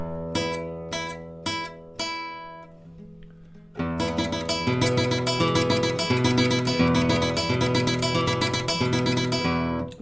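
A flamenco guitar plays a few plucked single notes, then breaks into a rapid, shimmering tremolo with M-A-M-I fingering, producing a fast, even stream of repeated notes over a bass line that continues to the end.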